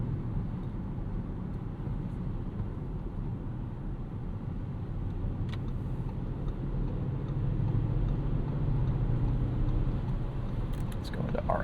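A 2025 Audi RS6 Avant with twin-turbo V8 and ZF 8HP gearbox drives along, a low steady engine and road rumble heard from inside the cabin, swelling slightly toward the end with faint clicks.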